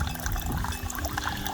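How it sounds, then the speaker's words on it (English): A small spray pump sends a steady stream of water splashing into a garden pond, a constant close trickle and patter with no pauses. "I'd rather have this constant stream of water coming from that little spray pump."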